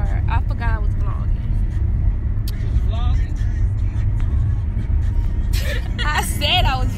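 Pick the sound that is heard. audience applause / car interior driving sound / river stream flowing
car interior driving sound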